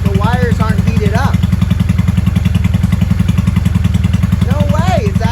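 Honda Shadow 600 motorcycle engine, run after holes in its gas tank were soldered: a loud, close, steady idle with an even rapid pulsing throb and a slight clatter, while a person talks briefly over it.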